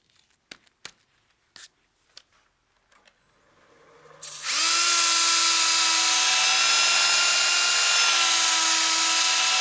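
After a few light taps and clicks, a drill whines up to speed and runs steadily as a 220-grit sanding pad works over a turned wooden bowl, loud and continuous.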